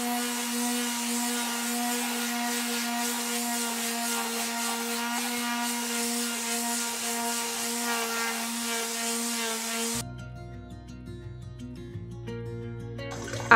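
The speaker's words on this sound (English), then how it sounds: "I'm gonna see what happens if I run the sander over it." A power sander runs over a thrift-store mirror frame with a loud, steady, buzzing motor drone for about ten seconds, then gives way to a quieter, different sound.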